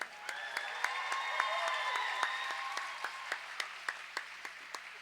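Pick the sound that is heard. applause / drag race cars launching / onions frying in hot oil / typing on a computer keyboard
applause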